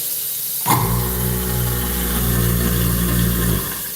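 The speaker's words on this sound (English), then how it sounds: "Let's see if the garbage disposal works okay." A kitchen sink garbage disposal switches on with a sudden clunk and runs for about three seconds as a loud steady motor hum, then cuts off.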